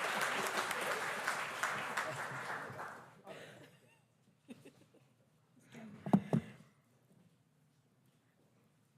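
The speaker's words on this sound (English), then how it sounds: "So please give a round of applause to Margaret Kiskau." A conference audience applauds, a dense wash of clapping that fades out after a few seconds, followed by faint scattered sounds and a brief voice.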